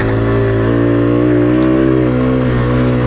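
A 2002 Yamaha TTR 125 small-wheel dirt bike engine runs close and loud, a steady buzzing tone held without pause over a few seconds, with no talking.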